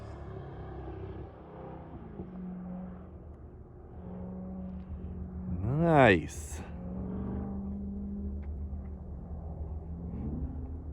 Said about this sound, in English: The exhaust sounds a little different on this one.